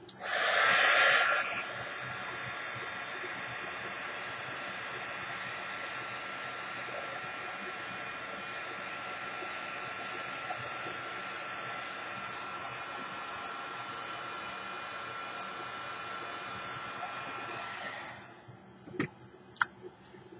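An embossing heat tool warms a second coat of shimmer embossing powder on paper, giving a steady, fairly loud fan whir with a louder burst at the start that runs nearly the whole time before cutting off, followed by a few faint clicks.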